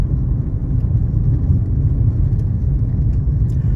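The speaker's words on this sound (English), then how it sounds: "I didn't feel all these bumps and hear all this road noise in what I was driving." Steady low rumble of road noise inside a moving 1986 Cadillac Cimarron on a country road, a continuous loud droning hum with slight bumps and no talking.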